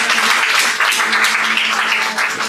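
A church congregation applauds and cheers the Lord during a Sunday service, a loud, sustained roar of many clapping hands with mixed voices throughout.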